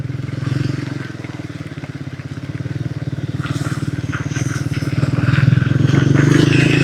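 A Triumph Speed 400 motorcycle rides through monsoon rain, its single-cylinder engine thrumming in a close, rapid pulse that swells as it accelerates, with hiss and splatter from the rain and road spray over it.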